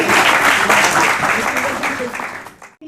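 Loud applause welcoming a guest at an award felicitation ceremony, dense sustained clapping that fades and cuts off near the end.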